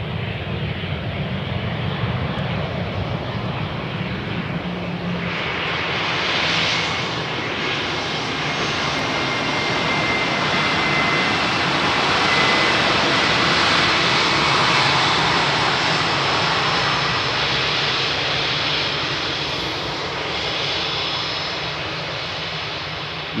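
Airbus A318 jet airliner arriving at Amsterdam Schiphol on runway 18R, a steady loud engine roar that swells midway and holds before easing slightly, with no voices over it.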